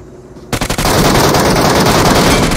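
Rapid automatic gunfire in a battle royale shooter game, opening with a few distinct loud shots and then merging into a dense, continuous barrage, close and unbroken with no talking.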